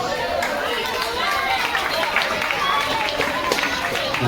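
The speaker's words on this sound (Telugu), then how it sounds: "చప్పట్లు." Audience applause at a school prize ceremony: a crowd clapping steadily and fairly close, mixed with chatter and a voice speaking over it.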